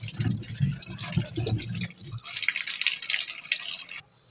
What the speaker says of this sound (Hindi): तीन से चार बार आप इस तरह खुले पानी में धो इन्हें खूब मसल मसल कर